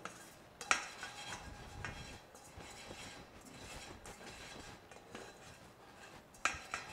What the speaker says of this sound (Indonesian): Sepertinya harus kita aduk agar tidak gosong.